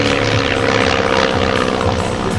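Propeller aircraft engine at an air show in Azelot, a loud continuous drone that swells and fades slightly as the plane climbs, with no talk over it.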